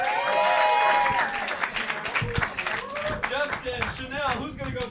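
An audience at a New York roast battle comedy show claps and cheers as a comedian is introduced, while a host keeps talking loudly over the crowd noise.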